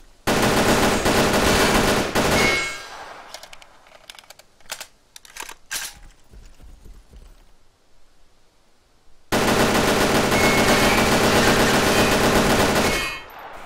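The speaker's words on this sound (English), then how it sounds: "We'll fire on the tires this time, because we know that they'll immediately start to deflate on every hit" Bursts of rapid automatic gunfire in a video game, aimed at a locked vehicle's tires, crackle loudly in several quick clusters, framed by long stretches of dense loud noise at the start and end.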